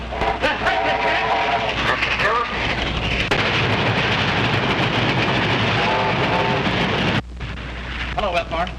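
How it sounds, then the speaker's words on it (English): A train rumbling past loudly and close, a dense continuous roar with clanking and rattling bursts, while voices shout over it at times. "Stop train about to go by."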